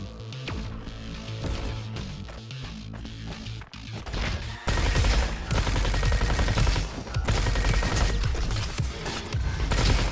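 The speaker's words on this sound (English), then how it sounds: "Oh, this is my type of gun." Gunfire in the robot shooter game Roboquest: dense, rapid bursts of shots and impacts over a steady game soundtrack, loud and sustained, intensifying into heavy continuous fire partway through.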